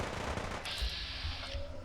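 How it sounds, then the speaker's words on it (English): Bursts of rapid gunfire in a Fallout 4 battle, fairly close and loud over a steady game backdrop, with a brief crackle of shots fading near the end. "I can hear gunfire."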